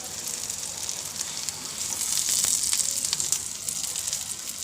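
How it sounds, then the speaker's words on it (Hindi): Aloo paratha fries on a pan, crisping as it is moved around, with a steady bright sizzle and crackle that swells slightly midway, close and alone without talk. "इस तरह से मैं इसे थोड़ा मूव भी करती रहूँगी यहाँ से वहाँ, कि ये चारों तरफ से अच्छे से क्रिस्पी फ्राई हो जाए"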